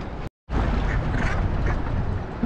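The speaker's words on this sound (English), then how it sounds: "Those are ducks." Ducks quack in a noisy outdoor spot with a steady rush of water or wind behind them, their calls blending into the broadband noise after a brief dropout at the start.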